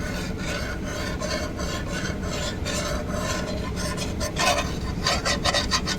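A scrubber rasps against a burned cooking pan, making a continuous gritty scraping that is fairly quiet and close, with a few sharper strokes near the end.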